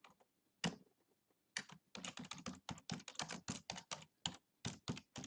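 Typing on a computer keyboard, with quick irregular bursts of crisp close key clacks after a couple of isolated taps and a short pause.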